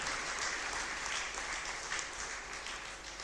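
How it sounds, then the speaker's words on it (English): An audience at a reunion gathering applauds Dr. Arivalagan and his team with continuous, fairly even clapping that lasts throughout, heard at moderate distance. "let us give a big round of applause for Dr. Arivalagan and his entire team"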